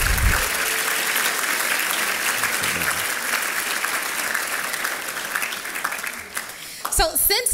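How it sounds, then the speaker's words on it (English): Gala audience applauding its sponsors with a full, sustained round of clapping that fades near the end, and a voice begins speaking as it dies down. "Let's have another round of applause for our generous sponsors."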